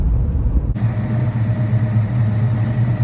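A 1968 Dodge Charger R/T 440 heard from the rear, its exhaust a loud, close, steady low rumble that starts abruptly after a brief quieter moment and then holds at a heavy idle.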